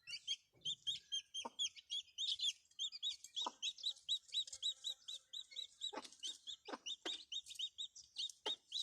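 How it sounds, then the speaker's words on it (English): Rapid, repeated high chirping from chicks fills the clip, with a few lower soft clucks from the mother hen mixed in nearby. "She'll cluck and nip at the bits of corn and that to show them how to eat."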